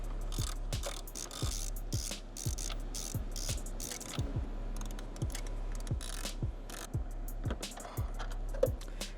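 A hand ratchet loosens the four T45 Torx bolts holding the ECU cover on a 992.2 Porsche Carrera, giving a steady series of sharp close clicks in short rhythmic runs against quiet background hum.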